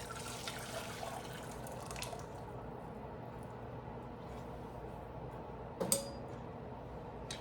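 Hot water is poured out of a glass canning jar during meat-sauce canning, a soft continuous splash and trickle near the start that settles into a low wet background, with one brief clink later.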